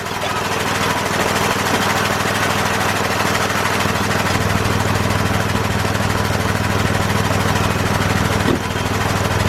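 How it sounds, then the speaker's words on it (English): Air compressor running in a garage during a brake job on a 2010 Dodge Ram 1500 pickup, a loud, constant motor drone with a steady low pulsing throb throughout, close by. "let me shut the compressor off"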